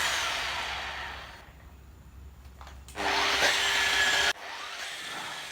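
A rotary buffing machine polishes car paint at low speed, a close whirring, grinding drone that dips and swells, then runs louder for a stretch before easing off abruptly.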